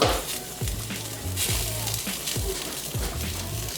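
Chiles and tomatoes sizzle and crackle as they roast on a hot pan, with rhythmic scraping as they are stirred or pressed every half second or so.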